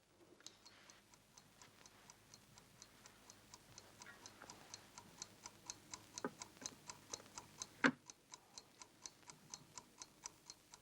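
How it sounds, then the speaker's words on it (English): A time bomb ticking like a clock, with steady, even, crisp ticks that slowly grow louder, plus a single sharp knock partway through. Faint and close, with no talk. "Inside the gollywog's a time bomb."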